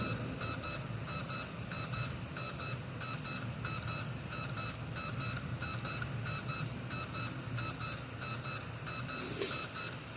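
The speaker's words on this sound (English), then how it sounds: "Here's some beeping noises," A Wii console's disc drive loads a game, with repeated faint electronic beeps pulsing steadily over a constant whirring hum, close and uninterrupted for about ten seconds.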